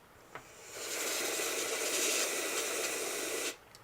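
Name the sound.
dust remover spray on back of clock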